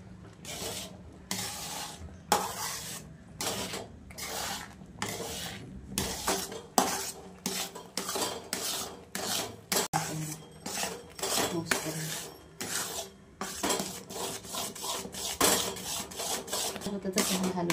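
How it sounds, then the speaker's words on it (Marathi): A spoon scrapes and clanks repeatedly against a steel kadai while a milk mixture for modak is stirred, rhythmic metallic strokes, close and fairly soft. "सतत हलवत राहावं लागते, सतत हलवावं लागतं, नाहीतर चिटकतं खाली."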